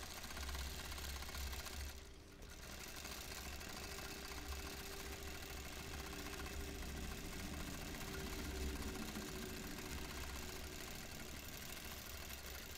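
Quilting machine basting a Crazy 8s quilt during freehand quilting, a steady low mechanical hum running continuously and fairly faint, with one brief dip in the motor sound near the start.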